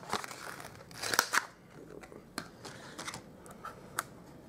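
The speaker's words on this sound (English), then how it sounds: "with that same piece of cardstock, I'm going to cut out these gears." Scissors cutting gear shapes out of cardstock for a handmade card, close crisp snips and crunchy paper cuts in irregular bursts with small rustles between.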